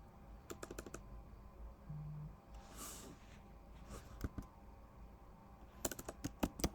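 Quiet typing on a computer keyboard, short bursts of crisp key clicks at the start and end with a soft rustle in between.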